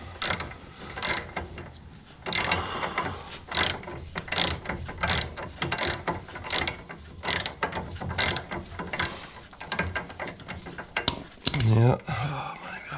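A ratchet turning a bolt during repair of a Walker mower's blower fan, close rapid clicking in repeated bursts of strokes with short pauses between them.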